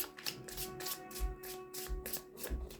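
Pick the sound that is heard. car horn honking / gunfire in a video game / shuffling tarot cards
shuffling tarot cards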